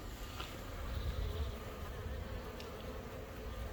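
Honeybees buzzing steadily around a hive on a beekeeping visit, a dense, close, continuous drone with individual bees passing near, no voices.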